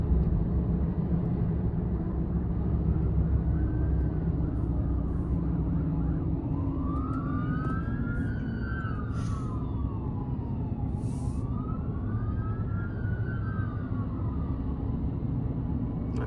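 A police car siren wails during a police chase amid heavy highway traffic, its rising and falling sweeps repeating over a loud, steady road and engine rumble.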